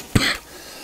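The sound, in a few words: coughing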